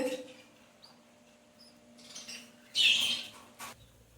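A baby bird gives faint chirps in an indoor coop, with one louder, brighter burst of chirping near the end and a short call just after.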